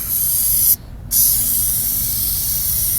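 A spray can lays Plasti Dip onto dirt bike plastics in a loud, close, steady hiss, broken by one short pause before the spraying resumes and continues to the end.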